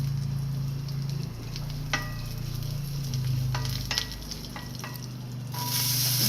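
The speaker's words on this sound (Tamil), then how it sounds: "கடாயில் எண்ணெய் ஊற்றி கடுகு உளுந்து கருவேப்பிலை போட்டு தாளிச்சிடுங்க" Mustard seeds, urad dal and curry leaves sizzle and crackle steadily in hot oil in a kadai, with a few sharp pops and stirring clicks over a continuous frying hiss that swells louder near the end.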